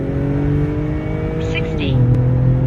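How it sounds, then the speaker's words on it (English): An Acura TL launches hard from a standstill, its engine note climbing steadily and briefly dipping at a gear change before rising again, close and loud. "Put it to the floor from a dead stop."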